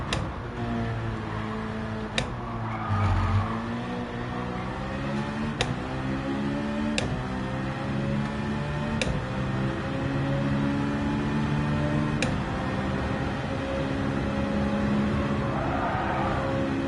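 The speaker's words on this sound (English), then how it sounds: "I'm gonna rev it out." A Group 4 race car engine in Gran Turismo 7 holds a steady, loud revving drone with rising harmonics, broken by periodic sharp ticks throughout.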